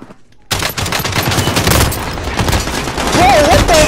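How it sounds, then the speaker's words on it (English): Gunfire from a shotgun in the video game Call of Duty: rapid, loud shots burst in after a short quiet start and continue densely to the end, with a brief whistling effect near the close. "I pumped him with like 6 shotgun rounds"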